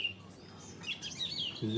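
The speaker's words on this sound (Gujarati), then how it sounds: "બારોબાર ચકલા બોલે છે." Faint sparrow-like chirps and twitters come from a short distance over quiet background noise, briefly interrupted by a low voice at the end.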